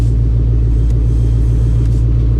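Deep, loud, steady low rumble of a 1,000-horsepower street-legal Mustang engine idling at close range, a continuous throbbing drone.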